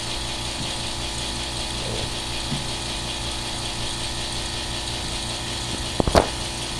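A Power Craft silent air compressor runs at night as a steady, low, even hum that holds throughout, with a brief louder clatter near the end.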